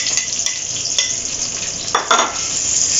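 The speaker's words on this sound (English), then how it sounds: "So in the same oil that we've done the potatoes and the pork, I'm going to add the onion and garlic." Chopped onion and garlic fry in oil already used for potatoes and pork. A loud, steady close sizzle runs throughout, with a few brief scraping stirs of a utensil in the pan.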